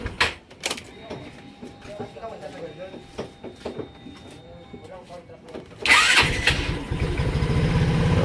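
A Rusi RFI 175 motorcycle receives a few clicks and short cranking attempts among scattered handling noises. It then fires up abruptly near the end and settles into a close, steady, loud idle.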